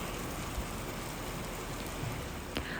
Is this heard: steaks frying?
no